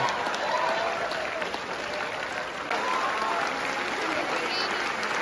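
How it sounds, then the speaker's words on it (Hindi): An audience clapping at a Hindi poetry recital during a college fest, a sustained broad wash of applause from a crowd with a voice faintly present underneath. "क्या श्रद्धा से ताली बजा रहे हो हमारे पतियों।"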